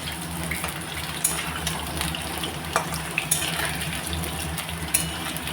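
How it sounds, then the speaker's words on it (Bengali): Potatoes sizzle in a pan with a steady crackling fry and occasional sharp pops and scrapes, close by and with no talking. "আলুটা এবার ভাজা ভাজা হয়ে যাচ্ছে"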